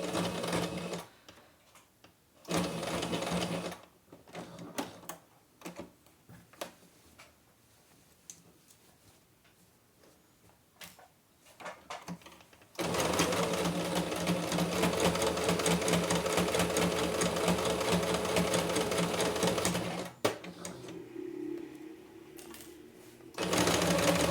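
A sewing machine stitches a tea towel into a hand towel, with short bursts of fast mechanical clatter and then a long steady run of stitching, quiet fiddling noises between runs.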